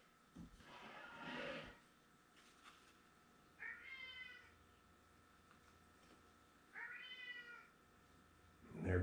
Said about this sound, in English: Like literally, that meowing will not stop.